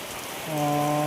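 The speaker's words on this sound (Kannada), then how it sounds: "ಇದು ನೋಡಿರಿ ಮಳೆ" Rain falling in a village, a steady wash of drops that swells louder about halfway through, with a faint sustained tone joining it; no one speaks.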